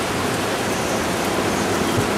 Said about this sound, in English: It's been raining fairly constantly since the last time.